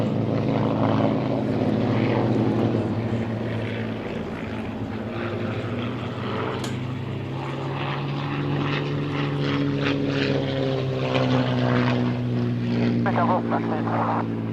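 Vintage biplane Charlie Brown flying an air display at Flying Legends, Duxford, its propeller engine droning steadily and loudly throughout with a slowly shifting pitch, while a commentator talks over it.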